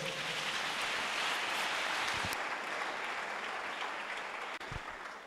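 A church congregation applauding to acclaim the Lord during a sermon, a steady, dense wash of clapping that fills the whole stretch at high level and eases slightly toward the end.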